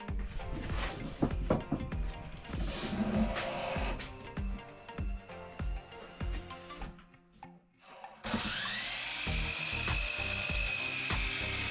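A hand saw cuts wood for a portable speaker enclosure, rhythmic rasping strokes close by, followed by a short pause and then a steady continuous buzzing, with no speech.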